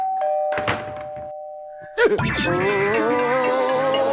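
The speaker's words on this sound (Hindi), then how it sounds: "हाँ, सुन ली भाई, घंटी सुन ली।" A doorbell chimes, a sustained electronic tone, followed by a brighter, louder melodic ring that continues to the end; faint background noise before it.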